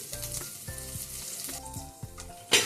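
Chopped garlic, ginger and green chilli sizzle in hot oil for an Indo-Chinese crispy chilli baby corn dish. A close, steady crackle is broken by repeated stirring scrapes, with a sharper burst at the end.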